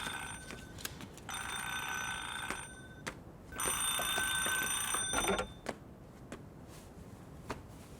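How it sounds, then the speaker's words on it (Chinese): A telephone rings in a home in two long electronic bursts with a short gap between them, loud and close, and no one talks over it. "搁有啥人打电话来？"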